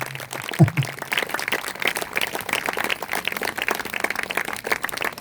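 An audience claps together at a church worship meeting, a dense, steady patter of many hands lasting several seconds with no voices over it.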